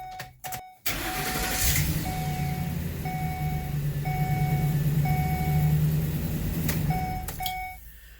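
A Ford E250 Econoline van engine, repaired after catalytic converter theft, cranks and catches, then runs at a steady idle while a dashboard chime beeps repeatedly at regular intervals.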